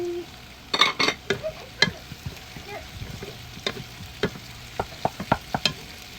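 Pork belly frying in olive oil in a pan: a steady close sizzle broken by irregular sharp spatters and pops, with scattered clinks of a utensil against the pan and no talking.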